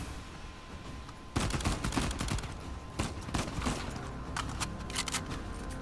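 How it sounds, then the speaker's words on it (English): Gunfire rings out during Uncharted 4: A Thief's End gameplay, with rapid bursts of shots that start suddenly and keep crackling in clustered volleys over steady background game sound. "So I can shoot at him, but not shoot here. The bullets go straight through."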